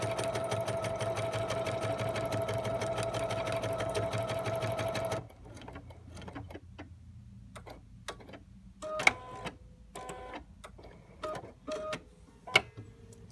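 A Bernina sewing machine stitches decorative sideways-motion stitches in a steady, rapid mechanical chatter for about five seconds, then stops. Quieter clicks and handling taps follow, close by.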